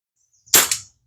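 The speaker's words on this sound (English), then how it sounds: "let's just take a shot at the can down there" A single sharp shot from a pumped Daisy 901 air rifle loaded with a paintball, aimed at a can downrange; loud and close, a quick crack with a brief tail, no talking.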